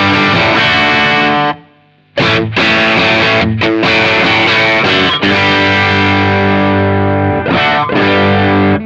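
Electric guitar driven through a Hot Wire overdrive pedal placed ahead of a Wampler EQuator equalizer, giving thick, sustained distorted chords with a short gap and a few choppy restrikes, loud and alone.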